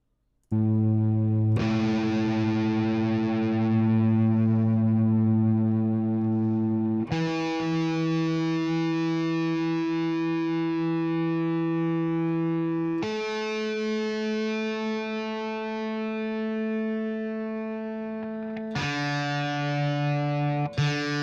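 A distorted electric guitar, being tuned while arranging a Fire Emblem metal cover, rings out in long sustained notes and chords, each held several seconds before the next string is struck, loud and buzzy with no talking.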